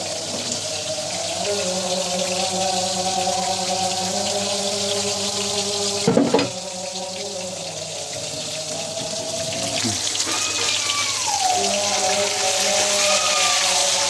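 Water runs steadily into a pan while mustard hilsa is being cooked with turmeric, salt, coriander and cumin, a continuous close pouring rush lasting about fourteen seconds, with a brief clatter midway.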